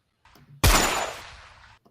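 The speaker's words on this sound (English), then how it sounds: "There's a lot of gunshots over there." A single sharp blast cracks out and rolls away into a long fading rumble, heard at a distance over a quiet background.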